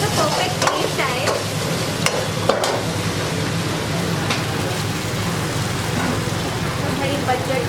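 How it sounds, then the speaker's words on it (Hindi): Momos frying in a pan at a street food stall, a continuous dense sizzle and crackle with occasional clinks, set against busy background noise. "इन्हें 5 मिनट तक फ्राई करना पड़ता है ताकि इन्हें एकदम अच्छा सा परफेक्ट टेस्ट आए।"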